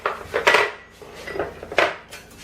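Whole eggs with vanilla sugar and plain sugar being mixed in a dish for an apple cake, with a few close scraping and clinking strokes of a utensil against the bowl.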